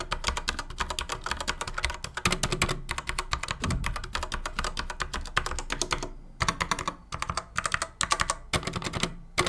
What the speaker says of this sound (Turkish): Kırmızı switch'i biliyorsunuz. Mavi switch'e göre daha yumuşak basımlı ve ses anlamında da daha yumuşak bir ses.